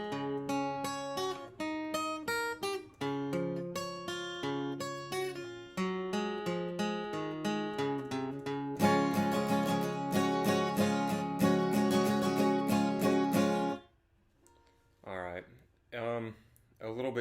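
Strummed acoustic guitar with a capo plays the rhythm intro of a song, bright and close, growing fuller midway before stopping, followed by a few sparse plucked notes.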